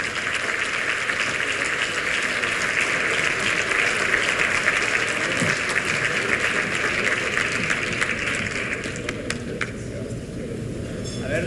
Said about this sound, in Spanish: Un fuerte aplauso, por favor.